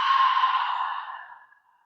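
A single deep, breathy exhale during pranayama breathing practice, close and soft, starting full and gradually tapering away to silence over about two seconds.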